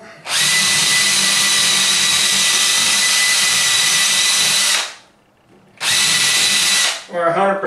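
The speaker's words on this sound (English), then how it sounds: "Drill." A power drill drives screws into a wooden drawer, a loud close whine that holds steady for about four and a half seconds, stops briefly, then runs again and winds down.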